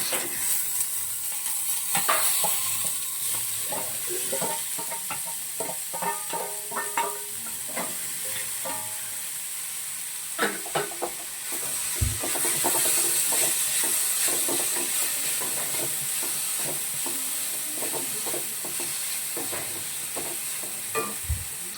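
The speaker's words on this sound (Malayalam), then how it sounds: "ഇപ്പുറത്തതാ സവാള വഴന്ന് വന്നോട്ടാ ഇരുമ്പിൻ്റെ ചട്ടി ആയതുകൊണ്ട് നമ്മൾ ഒരു മീഡിയം ഫ്ലെയിമിലാണ് വെച്ചേക്കുന്നത്" Onions sautéing in an iron pan over a medium flame, a continuous close sizzle with intermittent stirring scrapes and utensil knocks against the pan, no voices.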